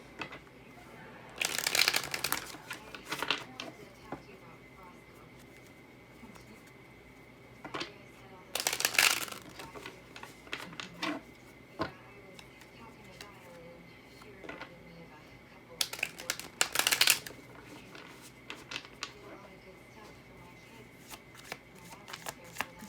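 Tarot or oracle cards being shuffled by hand: three loud, close riffling bursts spaced several seconds apart, with soft handling rustles and quiet speech-like murmurs in between.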